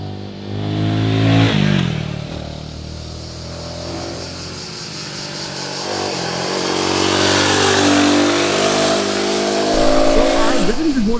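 Royal Enfield Guerrilla 450 motorcycle engine and exhaust droning steadily while riding through the gears, a near, continuous note with rising revs and shifts, mixed with wind.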